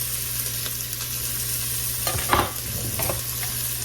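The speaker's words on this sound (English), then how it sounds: "I'm adding onions, celery, and sliced fresh garlic to my pan and the top of my stove" Onions, celery and sliced fresh garlic sauté in a pan on a stovetop, a soft continuous sizzle with a low hum underneath and a few spoon scrapes and clinks near the end.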